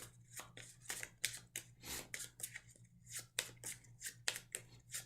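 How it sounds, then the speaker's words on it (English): Regular enemy cards for the Tiny Epic Defenders board game get shuffled by hand up close, a steady run of short papery riffles and snaps with a low hum beneath and no talking. "And then we shuffle these regular enemy cards."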